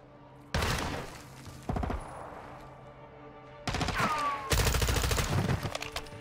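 Gunfire in the first-person shooter Modern Warfare 2 (2022) on PC: short loud bursts of automatic fire, a brief burst near the start, then longer sustained volleys later, with faint background game sounds between them.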